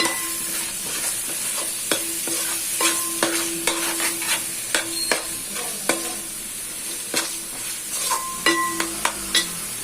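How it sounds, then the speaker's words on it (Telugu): Coconut paste frying in a pan while being stirred, a soft constant sizzle broken by frequent rhythmic scraping and clinking of a spoon against the metal. "ఇది ఇప్పుడు కోకోనట్ పచ్చి వాసన కూడా పోయేంత వరకు మనం అది ఫ్రై చేసుకుంటూ ఉండాలి."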